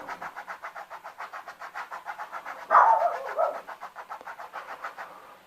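A pet dog pants in a steady, quick rhythm throughout, with a louder burst partway through that could be a bark, all at moderate level and with no voices.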